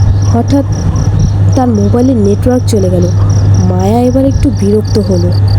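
A steady, loud chorus of crickets chirps in a cartoon night scene on a deserted road, running continuously beneath a narrator's voice.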